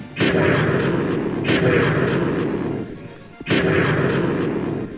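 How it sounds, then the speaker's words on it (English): Gaster Blasters from a Minecraft sans datapack fire three times in succession, each a loud booming blast that swells into a sustained roaring beam before the next one hits. "Next one is the third Lucky Blaster, which is basically just the normal Gaster Blasters, but it shoots 3 consecutively"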